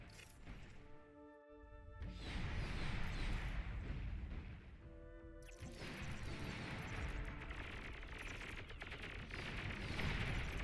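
Weapons fire in the strategy game Beyond All Reason, with pawns and whistler units catching friendly fire: dense bursts of crashing, thudding shots and explosions run almost nonstop through a loud, busy battle mix, with tonal game cues rising twice in the background.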